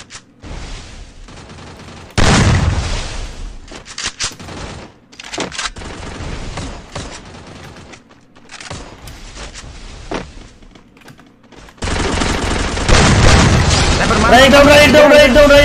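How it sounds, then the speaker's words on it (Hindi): Shots fired in Garena Free Fire, a mobile battle-royale shooter, in a 2 vs 2 class squad match: scattered bursts of gunfire and booming blasts, some sharp and loud, mixed with voices talking. "राइट सनवर को दो शॉट, एक्स्ट्रा शॉट की डैमेज सनवर को।"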